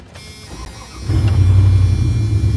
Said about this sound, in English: My car sound good right now, man. It sound like my original truck.